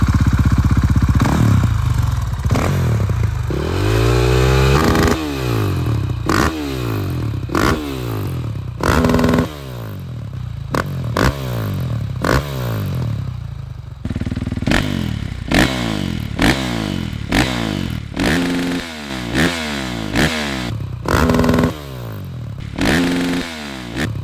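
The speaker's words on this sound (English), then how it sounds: "Here we have my friend's bike with a real FMF" A motorcycle fitted with a real FMF exhaust revs repeatedly, rising and falling in sharp bursts over a rough idle, loud and close, with no talking.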